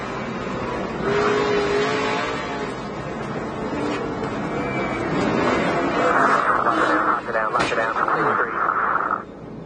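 A dirt track race car engine roars steadily from onboard, loud and continuous with rising and falling revs, while a commentator talks over it.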